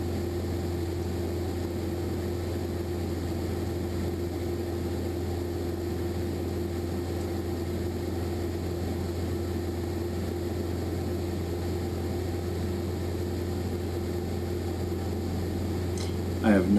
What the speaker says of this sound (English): a small airplane